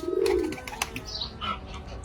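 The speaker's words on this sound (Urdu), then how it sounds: "اس باغ میں جو ہے کبوتر بھی موجود ہیں" Soft pigeon coos, a low murmuring call near the start, set against outdoor garden ambience with faint chirps and rustling.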